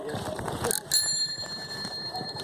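A handlebar bicycle bell rings once with a bright, sustained metallic ding, near and clear over light outdoor riding noise and faint voices.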